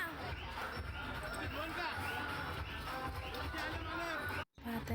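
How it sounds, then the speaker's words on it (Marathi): A dense crowd at a Ganpati festival display in Ahmednagar, India, with a busy babble of voices and shuffling that runs steadily and close, broken by a brief dropout near the end. "खूप गर्दी पण होती तिथे"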